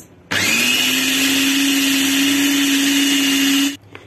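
An electric chopper minces garlic, its motor kicking in abruptly with a steady high whirring drone for about three and a half seconds before cutting off sharply, loud and alone.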